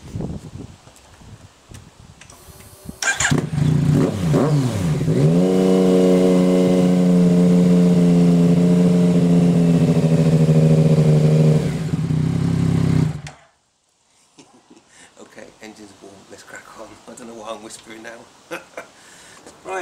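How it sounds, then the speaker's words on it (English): A Yamaha MT-09 motorcycle engine idles loudly and steadily for about ten seconds with a slight rise in revs, then cuts off abruptly, followed by quieter handling noises. "First thing to do is run the bike, make sure you get it warm."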